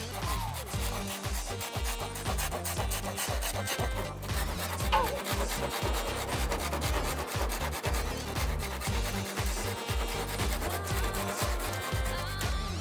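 Loud, close rasping of a saw cutting wood, with fast, steady back-and-forth strokes running continuously without pause.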